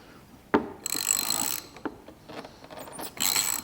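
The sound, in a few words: ratchet with 9mm socket loosening a car shock bolt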